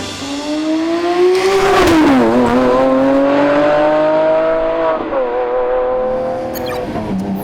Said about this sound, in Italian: il motore che c'è qua dietro è il V12 Lamborghini più potente di sempre